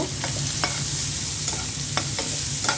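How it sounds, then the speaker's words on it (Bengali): Shrimp frying with onion, garlic, dried chillies and masoor lentils for a mashed shrimp dish: a dense, steady sizzle throughout, lightly punctuated by a few soft spatula taps, close and without speech. "চিংড়ি মাছটা ভেজে নিচ্ছি, পেঁয়াজ রসুন আর শুকনো মরিচ দিয়ে দিয়েছি, আর মসুরির ডাল।"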